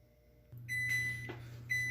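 A preheated oven hums steadily and sounds a few short, bright electronic beeps close by, with a soft clunk between them.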